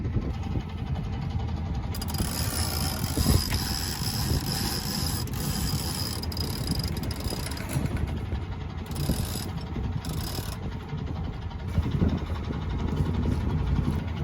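A sailboat's engine runs at sea, giving a steady low mechanical drone with faint rattles and wind noise around it. It sounds continuous and moderately close, with no talking.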